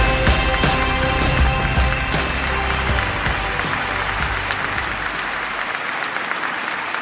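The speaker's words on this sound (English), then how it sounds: "A big round of applause, ladies and gentlemen" Audience applause at a My Voice My Nation 2019 event in Malaysia, a loud wash of clapping from a large crowd that starts strong and slowly thins out toward the end.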